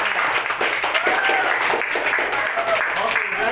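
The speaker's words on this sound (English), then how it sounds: "let's welcome our next presenter with a big round of applause" A student audience gives a steady round of applause welcoming the next group presenter at a class performance task, dense continuous clapping at even loudness for a few seconds, with faint voices mixed in.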